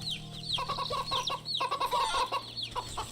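A cluster of chickens in the video game Wytchwood clucks and squawks in a busy run of overlapping calls, close and fairly loud, with a low steady hum underneath and no voices.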